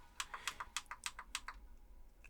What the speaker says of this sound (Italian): il volante è composto da 10 pulsanti RGB, vi faccio sentire il click